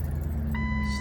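A Jeep Wrangler engine starts and runs with a low, steady rumble after an idle air control valve cleaning, and a short high beep sounds halfway through.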